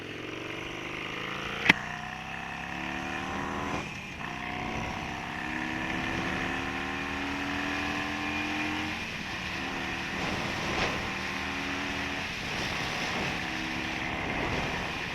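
A Harley-Davidson Iron 883 motorcycle with a TBR exhaust cruises on a freeway, a steady loud engine drone with rising harmonic sweeps as it shifts through gears, wrapped in heavy wind rush, with one sharp click near the start.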